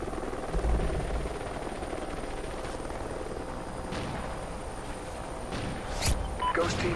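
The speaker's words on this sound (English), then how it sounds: "Helo scout on the way." A helicopter scout flies in a video game as a continuous rotor drone. Faint distant gunfire crackles beneath it, with a couple of sharper bursts near the end.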